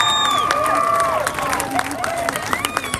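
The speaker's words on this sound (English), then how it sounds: "let's give these contestants one more round of applause" Crowd applause and cheering for contestants at a car giveaway finale, a steady wash of clapping with whistles and shouts, voices chattering underneath throughout.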